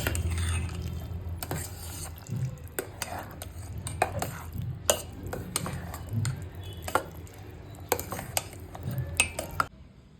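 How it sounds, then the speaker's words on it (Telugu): Sweet pongal with cashews, raisins and coconut pieces is stirred in a pot for Bhogi, giving repeated scraping and clinking of a spoon against metal at close range, steady throughout. "జీడిపప్పు కిస్మిస్ కొబ్బరి ముక్కలు అవి వేసేసుకుందాం వేసుకుని ఒకసారి బాగా కలుపుకుని దింపేసుకోవడమేనండి"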